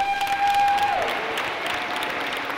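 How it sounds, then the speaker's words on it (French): An audience at an awards ceremony claps steadily in a dense burst of applause, following a brief sustained tone at the start. "On peut les applaudir 100 secondes."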